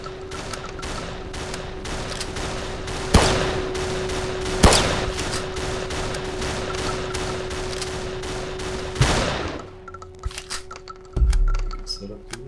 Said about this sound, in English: These guys shoot fireballs at you.